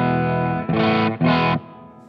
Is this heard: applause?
no